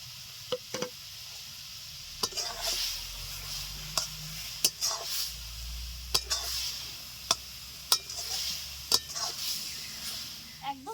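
Dried red chilies sizzling in a pan of Bengali-style raw mango chutney, soft steady frying hiss with regular sharp ticks and scrapes of a spoon stirring, quiet and close.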